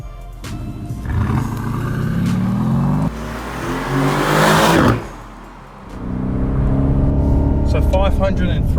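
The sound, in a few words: Aston Martin DB11 V8 Turbo engine accelerating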